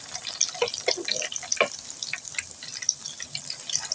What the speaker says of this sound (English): you just want to fry these until they're brown